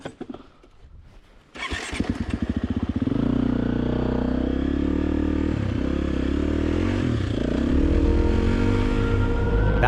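A dual sport motorcycle starts and revs on a backcountry trail in British Columbia, settling into a loud, steady engine drone close by. Faint clatter comes before the start, and no one speaks.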